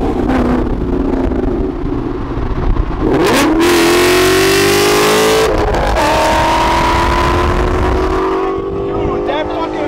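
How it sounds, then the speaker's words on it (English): A Ford Mustang with a very loud exhaust revs hard nearby, the engine note rising sharply, holding a roaring pitch, then dropping and climbing again, with people talking and reacting underneath. "Loudest car I've probably ever heard in person."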